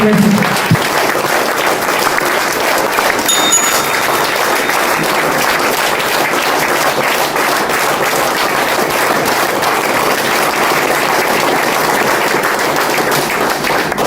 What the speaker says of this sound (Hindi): और जोरदार तालियां दे दो और please welcome professor Usman Yadav